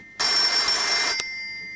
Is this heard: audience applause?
no